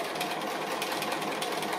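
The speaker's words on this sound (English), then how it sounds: "So really I just like to keep sewing without stopping and starting if I possibly can." A sewing machine stitching fabric applique, running continuously with a fast, faint, even mechanical whirr and needle patter.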